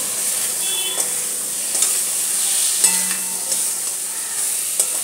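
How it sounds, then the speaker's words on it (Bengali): Boiled potatoes fry in a spiced pan for dhokar dalna, giving a steady hissing sizzle up close with occasional light clinks and scrapes of stirring. "আলুটা আমি সেদ্ধ করে নিয়েছি। এটা কষে ভালো করে কষে নিয়ে আলুটা আমি এতে ঢেলে দেবো।"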